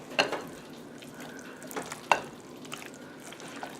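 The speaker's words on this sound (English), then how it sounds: "now just going to stir this up" A spoon works through turkey pie filling in a bowl, giving soft, wet scraping and squelching strokes with a couple of sharper knocks, fairly quiet and close, with no voices.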